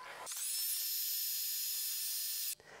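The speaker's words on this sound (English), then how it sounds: "Bring in the heat gun." A heat gun blowing on a soldered switch during a 737 autopilot panel build, a steady loud whirring hiss running continuously for about two seconds before cutting off abruptly.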